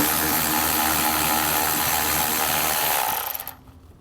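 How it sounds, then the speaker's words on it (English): A power ratchet drives a 10mm socket to remove a bolt behind the mud flap of a 2021 Tesla, a loud, continuous whirring buzz lasting about three seconds and then cutting off. "We'll go ahead and get that out with a 10mm socket."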